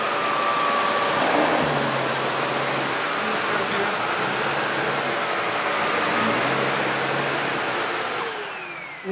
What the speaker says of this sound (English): I'm going to leave it on for carpeting since I'm vacuuming carpeting.